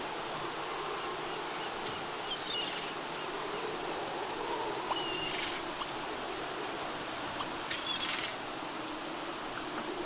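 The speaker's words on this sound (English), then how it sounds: "Man, what is up with all this freaking rain?" Rain falling in The Sims 3, a steady hiss of downpour with a few faint drips and soft ticks, continuous and even throughout with no talking.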